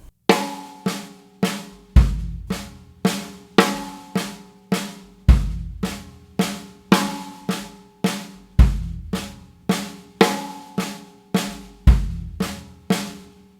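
A drum kit plays a fill in sixteenth-note triplets: right hand, left hand, kick, right hand, left hand. The crisp hand strokes repeat steadily and closely, punctuated by regular low kick thumps, with no talking.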